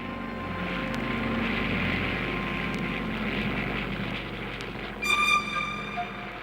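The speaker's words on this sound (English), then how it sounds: "the first wave of torpedo bombers take off" Droning aircraft engine noise as WWII Japanese torpedo bombers take off from aircraft carriers, a steady moderate rumble with a brief louder whine near the end.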